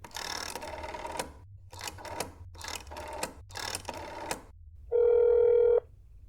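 Telephone in a Korean video game ringing in several distinct bursts of rapid bell-like trills with short gaps, followed by a steady electronic tone; close and fairly loud, with no talking.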